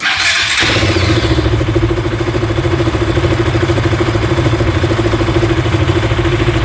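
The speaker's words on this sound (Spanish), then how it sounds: "Vamos a proceder a dar arranque." A Yamaha FZ-S or Suzuki V-Strom motorcycle engine cranks briefly and fires, then settles into a loud, close, steady idle with a rapid even pulse.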